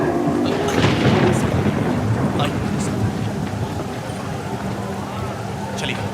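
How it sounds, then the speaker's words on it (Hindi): Heavy rain pours steadily with low rumbling thunder underneath, a dense continuous roar throughout, and voices can be heard faintly in the background. "इतनी तेज बारिश।"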